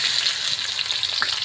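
400 grams of sliced onions sizzle steadily in hot oil in a pot with bay leaves, the first step of a mutton and potato curry, a close, even frying hiss with a faint stir.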